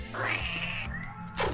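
A single short cat meow from a Newgrounds video game, a rising then falling electronic-sounding mew, clear and close with a quick thump at the end.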